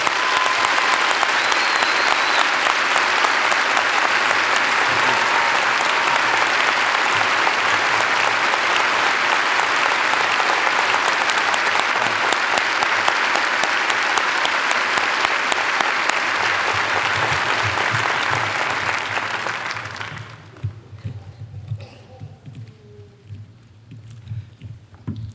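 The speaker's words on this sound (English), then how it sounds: "So let's give him one more round of applause." A large high school graduation crowd applauds in a long, loud, unbroken wash of clapping that holds for about twenty seconds, then fades quickly into quieter room noise with a few stray claps.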